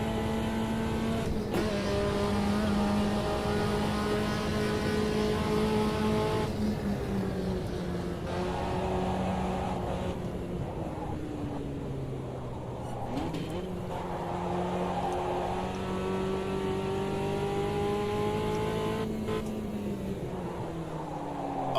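Cars in a multiplayer racing video game rev and race throughout, engine notes rising and dropping through gear shifts with occasional tyre skids, loud and continuous with no talk.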